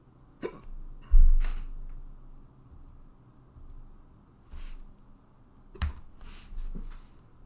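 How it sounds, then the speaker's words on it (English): Hiccups from a game developer at his desk, a few sharp isolated spasms heard close and fairly loud over a quiet room hum, spaced irregularly across several seconds. "Goddamn hiccups."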